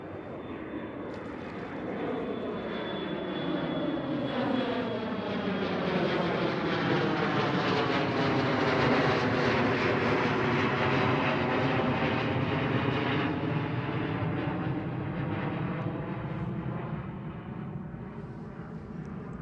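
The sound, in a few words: KLM Cityhopper Embraer E175 airplane at Schiphol Airport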